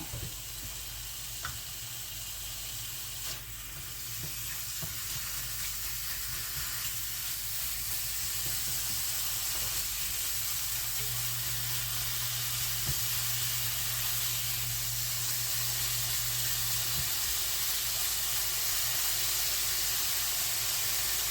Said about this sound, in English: I want all the butter to be fully melted before I put the hash browns in